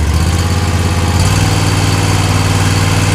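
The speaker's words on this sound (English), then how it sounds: "Go ahead and start the mower. Started right up." A commercial zero turn lawn mower engine runs steadily at close range, a loud, continuous low drone that shifts slightly in pitch partway through, with no talking.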